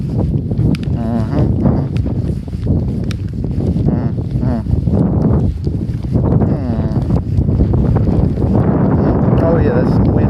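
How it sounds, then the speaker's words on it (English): Gusty wind blows outdoors during a walk in the rain, a steady loud rush and buffeting across the microphone, with people talking over it throughout. "that's some wind right there"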